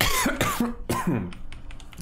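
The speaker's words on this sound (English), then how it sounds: "Small coughing fit again." A man has a short coughing fit of several harsh, close coughs in quick succession, mixed with throat clearing, followed by quieter breathing.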